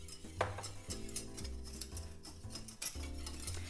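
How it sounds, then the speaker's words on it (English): A whisk works flour into melted butter in a medium pot, giving quiet, rapid scraping and clinking strokes against the metal in a brisk, uneven rhythm, with no speech. "The butter has melted, so I am going to whisk in 2 tablespoons of flour."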